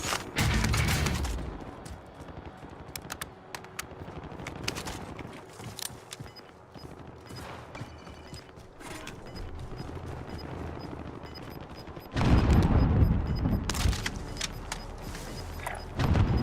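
Gunfire in the video game Call of Duty: Modern Warfare Warzone, with scattered sharp shots and bursts over a steady background din, swelling into a louder, denser stretch of firing near the end.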